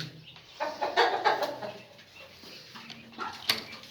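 Hens on a poultry farm cluck in short, irregular bursts close by, with quieter moments in between.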